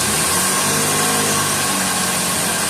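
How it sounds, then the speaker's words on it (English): A Nissan car engine, started by key fob remote start, runs steadily at close range, a loud continuous hum with a slight revving edge and no talking. "So now the car is running."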